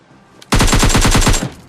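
A loud, rapid burst of automatic gunfire in PUBG Lite, about a dozen evenly spaced shots lasting roughly a second, after a brief quiet lead-in.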